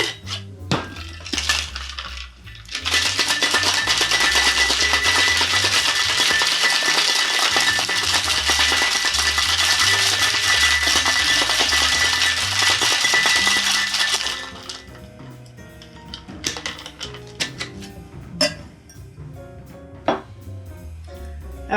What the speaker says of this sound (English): Next I'm going to take some cracked crushed ice and put it into the mixing tin. We're going to shake this for about 15-20 seconds.